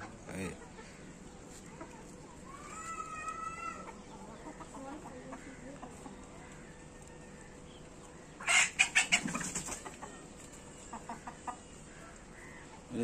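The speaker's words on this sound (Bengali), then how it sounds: "দেশি মুরগির মতনই খুবই চঞ্চল মুরগিগুলো।" Rooftop-raised laying hens clucking, occasional soft clucks and calls over a steady background, then a close burst of loud squawks and flapping around the middle, with a voice briefly heard.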